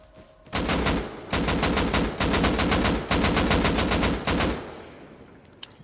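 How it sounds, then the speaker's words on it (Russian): Bursts of rapid automatic gunfire in a video game raid, fired at a door: five loud sustained volleys of fast, evenly spaced shots separated by brief gaps, ending with a faint trailing tail. "Просто постреливай давай. По двери."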